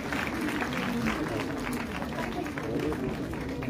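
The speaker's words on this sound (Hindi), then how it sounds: "आप लोग तालियां बजाते रहे" Applause from an audience at a school event where a chief minister is chief guest, steady clapping mixed with crowd murmur and a voice over it, slightly distant.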